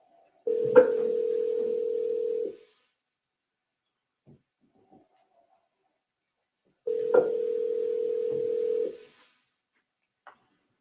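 A recorded phone call plays two long steady ringback tones about two seconds each, separated by several seconds of near silence, then a faint click before voicemail.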